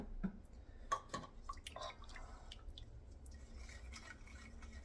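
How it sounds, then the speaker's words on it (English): Buttermilk and water being stirred together in a bowl for bread rolls, with light clinks of a utensil against the container and soft liquid swishing, quiet and close. "I'm gonna mix my liquid again, buttermilk and water."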